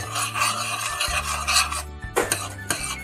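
Broccoli florets stirred into soup in a pot, a continuous wet scraping and rubbing with occasional utensil clinks against the pot, close up, with no talking.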